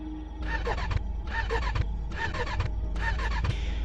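An old motorbike's key is turned and the starter cranks in four repeated bursts, each cutting off without the engine catching, close and fairly loud under steady background noise at a deserted petrol pump at midnight.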